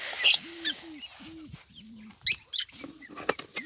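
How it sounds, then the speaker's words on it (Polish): Lovebirds in an aviary give several short, sharp chirps and a few brief squeaky calls, close and fairly loud, scattered irregularly over a few seconds against quiet background. "Świergoty."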